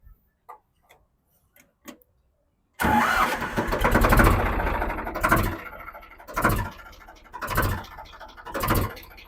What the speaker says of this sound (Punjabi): ਭਾਜੀ ਸਟਾਰਟ ਕਰੋ ਟਰੈਕਟਰ ਨੂੰ